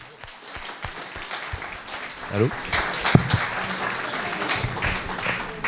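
Audience applause at a political conference in Toulouse, a moderate wash of clapping that builds and continues beneath a speaking voice and a brief spoken interjection.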